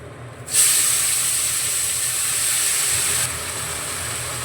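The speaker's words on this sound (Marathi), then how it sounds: "आता हे फोडणीमध्ये गवार टाकते मी" Cluster beans (guar) drop into hot oil tempering with a sudden loud hiss that holds steady as a bright sizzle, easing slightly after a few seconds, close and without talk.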